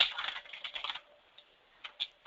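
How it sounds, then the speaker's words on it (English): Computer keyboard typing in the background: a quick flurry of faint clicky keystrokes, then a pause and a few isolated taps. "I'm getting some typing in the background."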